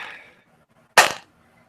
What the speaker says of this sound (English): Closes the book